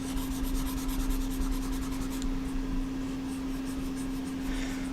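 Rubbing an eraser across a drawing, a soft continuous scratchy rasp heard close up under a steady low electrical hum, with no talk.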